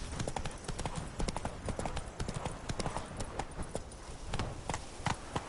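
A horse gallops in The Witcher 3 video game, with a rapid, continuous drumming of close hoofbeats in a steady rhythm throughout.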